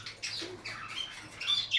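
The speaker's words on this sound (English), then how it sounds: "So many Australian parrots, parakeets, harlequins, budgerigar, red-eyed," Australian parrots, parakeets and budgerigars squawk together in a bird shed, with several overlapping harsh calls in quick succession, moderately loud, close and without any voices.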